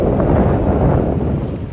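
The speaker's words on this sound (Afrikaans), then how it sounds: "Dit is baie winderig vandag, maar dit is so mooi." Strong wind roars steadily across a Mozambique beach, a loud continuous low rumble of wind buffeting the microphone with possible surf beneath, no voices.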